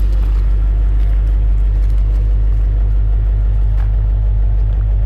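A 1956 Chevrolet Bel Air Nomad resto-mod with a fuel-injected 350 V8 and Dynamax mufflers idles up close, giving a loud, steady, deep rumble that holds without change.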